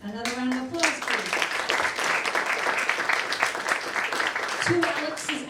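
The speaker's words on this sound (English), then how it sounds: "So, Alex Marical Trio, another round of applause, please." Audience applause for a jazz trio at a live club show, dense steady clapping filling the room for several seconds, with a voice speaking briefly at the start and again near the end.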